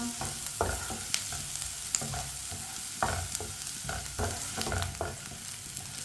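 Onion and green chilli frying in a pan, a constant sizzle broken by regular spatula scrapes and knocks as the pieces are stirred, close and fairly loud.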